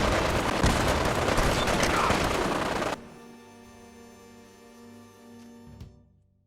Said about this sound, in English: We go in shooting.